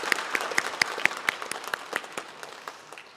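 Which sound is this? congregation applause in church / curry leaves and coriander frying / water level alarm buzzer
congregation applause in church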